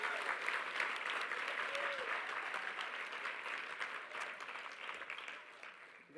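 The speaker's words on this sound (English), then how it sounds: "Can we give a round of applause for the brother?" Sustained audience applause for a concert pianist, dense steady clapping from a large crowd that holds level for about six seconds, then fades slightly near the end.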